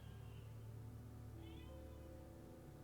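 A house cat meowing at a door, a couple of faint drawn-out meows heard over a steady low hum of background noise.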